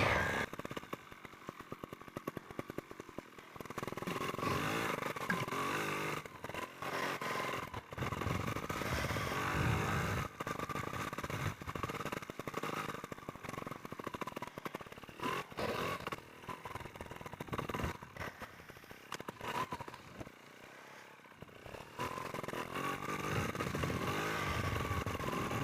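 A trials motorcycle rides a single-track trail, its engine buzzing and revving steadily for the whole stretch, close and fairly loud, with throttle surges and brief dips.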